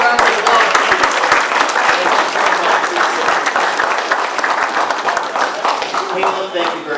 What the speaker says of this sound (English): Give me another round of applause.